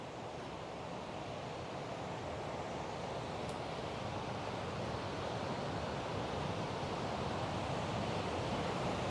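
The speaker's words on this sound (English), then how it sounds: "It's a huge river that's coming through here" A huge river rushes past in British Columbia, a steady, dense roar of churning water that fills the space continuously and evenly, close and loud, with no voices.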